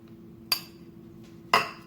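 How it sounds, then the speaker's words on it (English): A utensil stirring pasta salad coated in tikka sauce in a bowl, two sharp clinks against the bowl about a second apart over a quiet background. "And we're going to mix this really well, making sure the pasta is coated."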